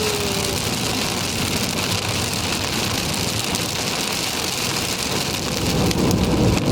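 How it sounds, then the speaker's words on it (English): Heavy night rain pours down in a steady, dense downpour, a continuous loud hiss of drops drumming on surfaces with no voices present. "see, downpour is good."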